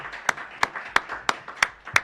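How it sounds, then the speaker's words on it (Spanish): Audience applause for a guest on a Spanish-language studio talk show, heard as six sharp, evenly spaced claps about a third of a second apart, fairly close and moderately loud, with no voices over them. "Por favor, un fuerte aplauso"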